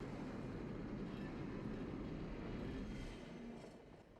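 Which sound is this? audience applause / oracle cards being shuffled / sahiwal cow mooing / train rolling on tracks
train rolling on tracks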